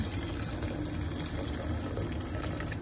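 Water gushes steadily into a pot while steamed chicken is being cooked, a continuous close rushing pour with no talk over it.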